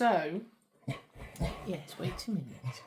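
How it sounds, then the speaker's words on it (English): A pet dog yelps and whimpers at close range, with a whiny, rising cry at the start followed by a few short yips mixed in with a person talking. "So apologies for the barking there"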